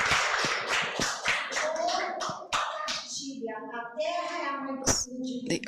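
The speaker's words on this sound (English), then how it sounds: "so give me a round of applause," Scattered hand claps from an audience applauding an indigenous writer, a burst of sharp slaps early on that thins out as a voice takes over.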